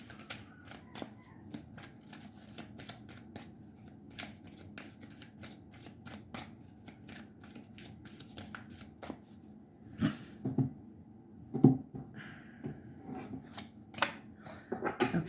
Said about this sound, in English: So let's pull some tarot and go a little bit deeper.